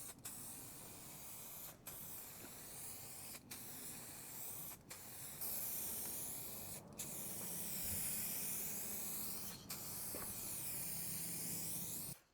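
A warmed aerosol spray paint can applying a second coat to a motorcycle panel: a long continuous hiss broken into several separate bursts by short gaps, close and steady throughout.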